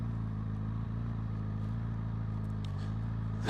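Honda CB1000GT motorcycle ridden slowly, its engine holding a steady low idle-like rumble close by, with faint rattles and a slight rise at the end.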